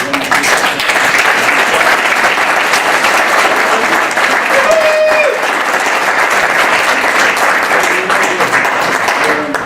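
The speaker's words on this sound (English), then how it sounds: "I would like you to give them another level of applause" Loud, sustained applause from a full audience at an automotive program graduation ceremony, dense clapping that holds steady for nearly ten seconds with a faint murmur of crowd underneath.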